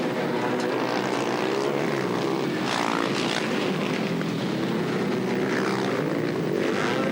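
Kawasaki motocross motorcycles racing on a dried-out offroad track in 1996, engines revving loudly and continuously with rising and falling pitch as the bikes battle for the lead.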